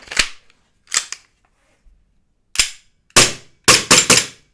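VFC P320 M17 gas airsoft pistol shooting, sharp snappy cracks in single shots and quick doubles, close and dry with silence between them.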